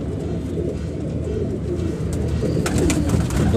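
Pigeons coo steadily at a busy pigeon market in Lahore, a dense low burbling chorus close by over crowd ambience, with a few sharper bird calls near the end.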